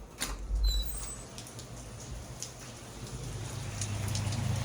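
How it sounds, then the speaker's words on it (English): Heavy rain pattering steadily outdoors at the Little Sahara sand dunes, with scattered drips and taps over a low rumble, growing a little stronger toward the end. "it's raining its ass off out here."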